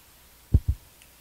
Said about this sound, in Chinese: 好拍掌弹指